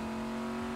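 Car engine in a video game race, a steady sustained tone with strong harmonics, running continuously and fairly loud throughout with no voices.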